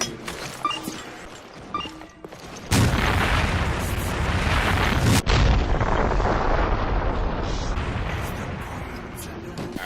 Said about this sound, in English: this is the proximity bomb substitute, and it produces just as good as an explosion